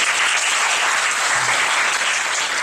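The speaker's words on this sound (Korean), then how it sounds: "우리 한번 박수 하겠습니다." A church youth-service congregation applauds steadily to welcome new first-year middle school students, a dense, even wash of many hands clapping close by, with no voices over it.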